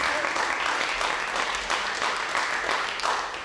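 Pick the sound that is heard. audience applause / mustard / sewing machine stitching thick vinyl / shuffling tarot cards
audience applause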